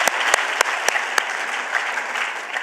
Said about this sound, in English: Another round of applause for the Deputy Chair.